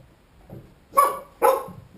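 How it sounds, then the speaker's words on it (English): Two quick, sharp dog barks in succession, fairly close, preceded by a faint low whine, during snow plowing with a Yamaha Rhino. "my dog will bark non-stop"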